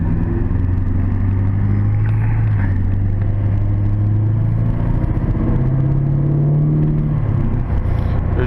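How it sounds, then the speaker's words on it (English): LB7 Duramax diesel truck driving after a tune: a continuous loud, deep engine rumble with gentle rises and falls in pitch as it pulls away, heard from inside the cab with no talk. "you can already feel just a hair different in how much pedal is needed, even just to get moving"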